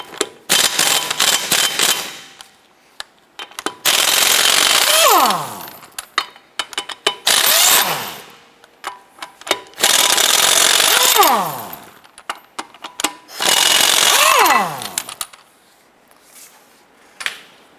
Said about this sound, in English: you can use a 22mm socket with your impact gun.